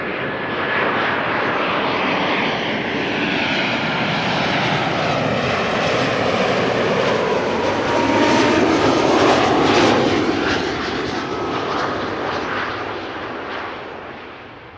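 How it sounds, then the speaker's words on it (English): An ITA Airways Airbus A320neo on arrival at Amsterdam Schiphol roars loudly and steadily, the engine noise swelling toward the middle and easing off at the end, with no voices. "Flight 108 arriving from Rome, and that's an A320neo."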